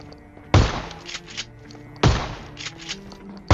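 Shotgun blasts in the PUBG video game: three sharp, booming shots spaced about 1.5 seconds apart, each with a brief reverberant tail over low background game noise.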